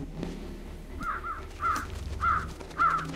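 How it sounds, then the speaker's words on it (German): Flock of crows in the Trüberbrook video game cawing in four or five evenly spaced harsh calls, moderately close, over low ambient game sound. "Meine Armee an Vögeln."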